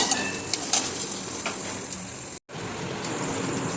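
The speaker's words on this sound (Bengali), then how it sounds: "আর এবার নাড়াচাড়া দিয়ে ভেজে নেবো একদম" Pointed gourd with salt and turmeric stir-frying in a pan, a dense continuous close sizzle with a few light stirring clicks and a brief dropout near the end.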